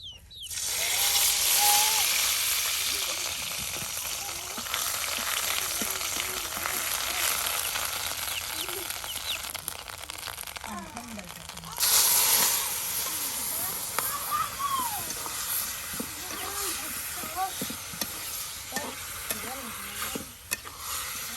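Boal and bata fish fry together with ground and paste spices in oil, a steady sizzle and hiss of a village-style bhuna with occasional stirring scrapes, while people talk over the cooking.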